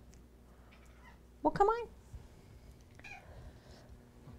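An old female cat meows several times in a short, wavering burst, close by, with a person talking around the calls.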